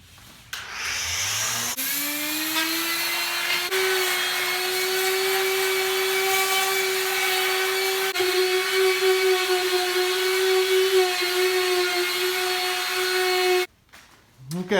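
A power sander fitted with 60 grit paper grinds across a tile fireplace in a long, steady high whine, loud and close, with scraping texture shifting as it moves and stops near the end.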